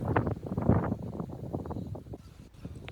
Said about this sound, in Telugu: గాలి కూడా బాగా వస్తుంది